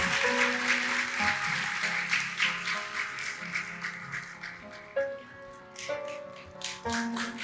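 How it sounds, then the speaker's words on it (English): An audience at an Ankara University honorary doctorate ceremony applauds with steady clapping, while background music with sustained tones plays underneath throughout. "Alkışlarla, with applause please."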